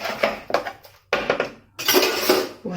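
Metal utensil scraping and clinking against a cooking pan while tomatoes are stirred, in three bursts of clattering separated by short pauses, close and fairly loud.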